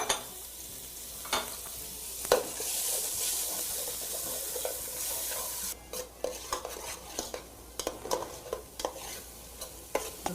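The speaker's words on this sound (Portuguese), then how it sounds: "a gente já deu uma refogada na cebola" Chopped onion and garlic sautéing in a pan for an esfiha filling, a steady close sizzle with repeated utensil scrapes and stirring knocks, the strokes growing quicker and more clipped toward the end; no talking.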